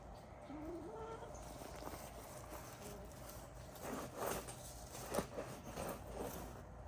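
Chickens cluck softly in the background outdoors, with faint, intermittent calls over a quiet ambient hiss.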